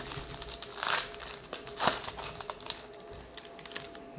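Foil wrapper of a Topps baseball coin card pack crinkling and tearing open up close, with two louder rips near the start followed by softer rustling and handling noise.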